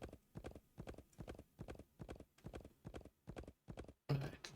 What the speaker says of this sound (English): Come on, Magic Horse